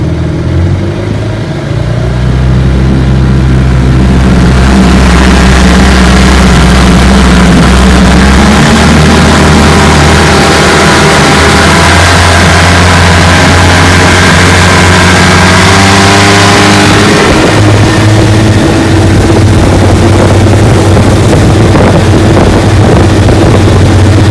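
Restored Johnson FDL-11 outboard boat motor on a bayou test run, running loud and close with a steady low droning hum, its pitch shifting partway through as it keeps going without pause.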